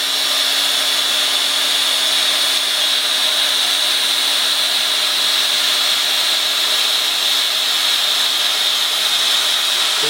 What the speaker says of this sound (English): we're going to run along the inside with the welding rod, and we're going to weld this together